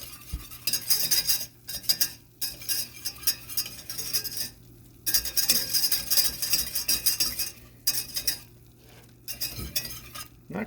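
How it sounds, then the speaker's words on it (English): A cheese sauce of butter, flour and half and half is stirred in a pan in quick rhythmic bursts of scraping, with light clinks of the utensil and a soft sizzle underneath between pauses. "Then we're gonna add a little bit of half and half, stir that up, and get it creamy"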